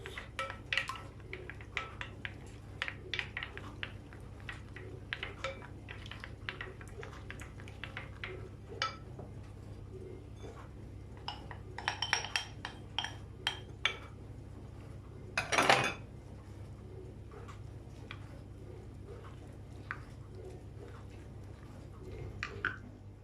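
Spoon stirring a yogurt celery salad with apple in a bowl, producing repeated soft clinks and wet squelches close by at a steady, quiet pace.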